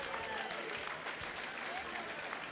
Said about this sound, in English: A round of applause for everybody here in this bidding process